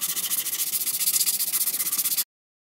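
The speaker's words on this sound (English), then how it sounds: "It just keeps the surface area of your sandpaper flat. So I'm not applying too much pressure. Sanding gently." Sandpaper rubs back and forth across a guitar body in steady, rapid strokes, a close, even rasping rhythm that stops abruptly.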